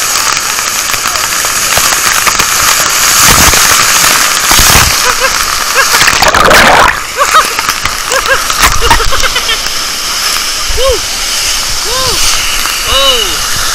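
Heavy, constant roar and splatter of water crashing down at Lata Pen'yel waterfall, loud and close, with people's voices breaking through the noise now and then.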